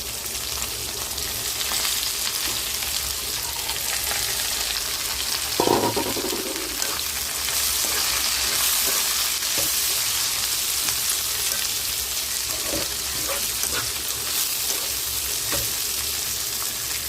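Thinly sliced cabbage sizzles steadily in a hot pan of tempering spices, with a continuous loud frying hiss and occasional scrapes and knocks as it is stirred.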